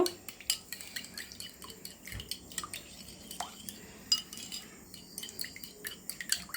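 Sugar being whisked into beaten egg in a bowl for bread egg toast, giving soft, irregular clinks and wet squishy mixing sounds close by, with no talking.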